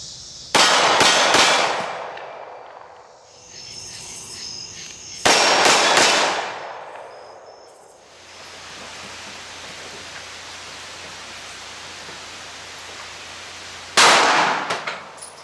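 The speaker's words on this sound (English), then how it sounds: "Day shots are next, followed by some night shots to check muzzle flash." Outdoor daytime shots from a 9mm pistol firing 124-grain +P ammunition ring out as three sharp, loud reports spaced several seconds apart, each followed by a ringing decay.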